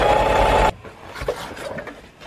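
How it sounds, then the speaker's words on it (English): A sewing machine stitching through stabilizer runs in a loud, close whir for under a second, then stops, leaving faint rustling and handling noises. "I use my sewing machine, which is right here behind you."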